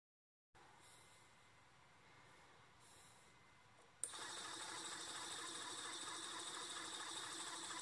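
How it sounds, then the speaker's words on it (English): A peristaltic pump runs inside an RC model ship's bilge system, a steady mechanical whir with a ratcheting texture that starts faintly, then jumps abruptly louder partway through and holds constant, close and alone. "We can test out the peristaltic pump. It seems to work fine"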